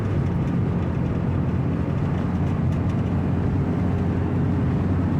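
A 1970 VW Beetle's air-cooled engine pulls steadily under acceleration from inside the cabin, a dense continuous low rumble with road and wind noise and no voices.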